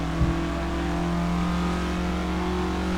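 A car accelerating hard down the longest straight of a race track, its engine holding a steady loud drone with harmonic tones that shift pitch slightly as speed builds, continuous for the whole stretch with no talk.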